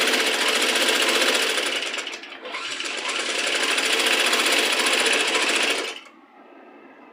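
A sewing machine stitches right along a piping edge, a loud, fast continuous rattling hum close by that briefly dips midway, then stops.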